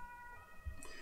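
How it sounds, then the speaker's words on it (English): An ambulance siren outside a house carries faintly as a sustained wailing tone, distant and low in level, with a soft thump near the end. "Ambulance."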